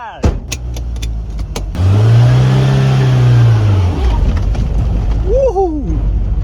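A 1983 Plymouth Turismo revs up and accelerates on a drive, heard from inside the car as a loud engine note rising and falling for a couple of seconds, with clicks before and a brief excited voice after.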